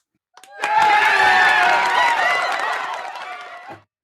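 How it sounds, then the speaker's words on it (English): A small audience gives a quiet, sensible cheer at a podcast recording, a soft swell of crowd voices and light applause that rises quickly, holds steady for about three seconds, then fades out. "Quiet cheer. A quiet, sensible cheer."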